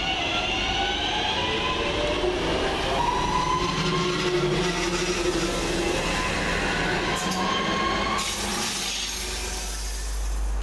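A London Midland Cross City class 323 electric train, unit 323-219, pulls away from Chester Road station on the 12:01 Longbridge to Four Oaks service, a steady close rumble with rising motor whine and rail noise throughout.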